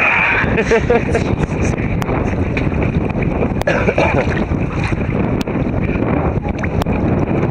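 Strong wind buffeting the microphone outdoors among straws, a loud continuous roar with gusts and a few sharp knocks, near and steady throughout.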